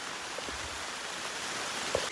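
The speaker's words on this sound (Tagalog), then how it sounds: "umuulan na kasi" Heavy rain pours steadily on a mountain trail at Mt. Mapalad in Tanay, Rizal, a dense, even hiss with a few brief drips or taps standing out, no talk.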